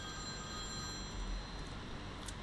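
A faint telephone rings in a quiet spooky-woods horror game, a steady electronic ring over low background hum, with no talk.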